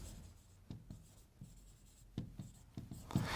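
A pen writes on paper, giving quiet, close scratching strokes with small taps and irregular pauses between marks.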